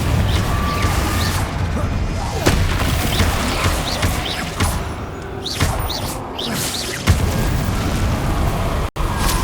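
Confringo spell blasts in Hogwarts Legacy combat, a series of loud booms and crashes with sharp bursts scattered across a busy, noisy fight, close and forceful.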